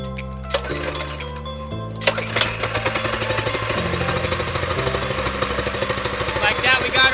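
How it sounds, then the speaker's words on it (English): Small gas engine on a homemade go-kart sputtering to life on the first pull, then idling with a steady, buzzy putter as the choke comes off, with someone speaking over it. "Like that, we got it running."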